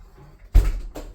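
Apartment entry double doors open with a sudden close thump followed by a brief rattle and a second softer knock.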